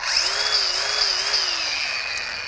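Craftsman V20 brushless 4.5-inch paddle-switch angle grinder (model CMCG45) driving a flap disc, a loud steady high whine with a wavering pitch, running continuously and alone while held deep under heavy load.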